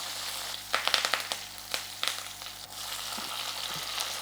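Curry leaves drop into hot oil for okra charu, giving a few sharp crackling pops and a soft sizzle that fades to a quieter fry, close and brief with no talking.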